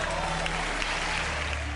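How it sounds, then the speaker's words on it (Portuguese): A church crowd applauds in a dense, steady wash of clapping that fills the whole moment, loud and close. "O público aplaude."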